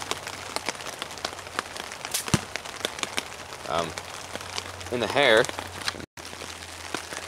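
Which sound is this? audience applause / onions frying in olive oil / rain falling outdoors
rain falling outdoors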